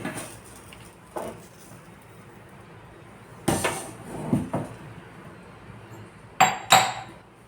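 A metal lid set down on a pot of hot oil during traditional herbal bone-oil preparation gives a few sharp clanks and clinks, separated by quieter gaps, close and fairly loud.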